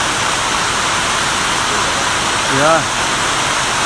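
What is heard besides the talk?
rain falling outdoors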